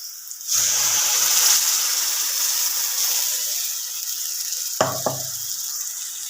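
Tomato and ground peanut paste poured into a hot pan for a soybean curry, bursting into loud sizzling and bubbling that slowly settles, then two sharp stirring clatters near the end.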